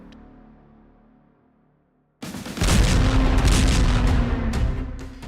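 A sudden heavy blast from Israeli bombing in Lebanon breaks a near silence, followed by a loud, sustained rumbling roar that holds for several seconds and then slowly eases off.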